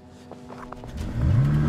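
A car engine close by idles and then revs hard as the car pulls away, its pitch rising and growing louder over the last half-second.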